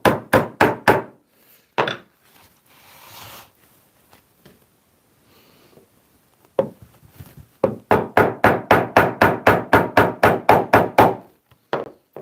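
Rapid series of sharp hammer taps driving brass pins into leather on a trunk, short bursts at first, then a long steady run of evenly spaced knocks, close by.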